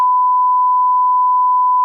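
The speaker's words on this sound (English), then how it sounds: "I just beeped that there and I never even actually said the word." Steady electronic censor beep, a single pure tone held loud and unbroken for almost two seconds before cutting off abruptly, with nothing else audible.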